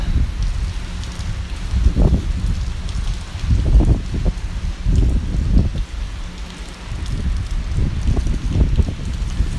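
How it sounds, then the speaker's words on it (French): Steady rain hiss with gusting wind buffeting outdoors at a railway station, swelling and easing in waves over the whole stretch, no voices. "Encore la pluie, bon, ça va. Mais avec le vent, c'est chiant quoi"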